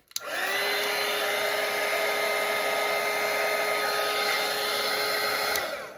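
A hair dryer blows on wet watercolour paint, a loud, steady, close whirring hum that starts abruptly and holds evenly for about five seconds before cutting off.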